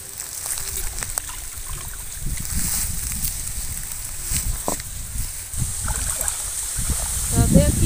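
Radishes are rinsed by hand in clean water, giving irregular sloshing, trickling and splashing with small knocks, rising at the end, while a person's voice is faintly present.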